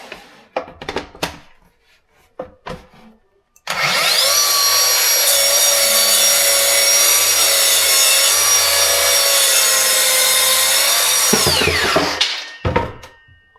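A HiKOKI 36V cordless plunge saw cuts through a board on a workbench, spinning up loud and steady for about eight seconds before winding down, with some light knocks and handling noises before and after.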